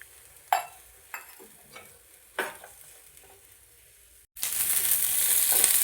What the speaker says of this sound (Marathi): थोडंसं तेल टाकून हा कांदा छान परतून घ्यायचा आहे.